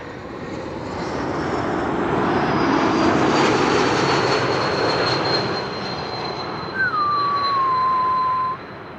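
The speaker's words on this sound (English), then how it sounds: "That's the geared turbofan whistle that you also hear with E2 Embraers from KLM." Air France Bombardier C-Series 300 taxiing or passing with its geared turbofan engines, a broad steady roar swelling and fading with a sustained high whistle on top and a later falling tonal whine, no talking.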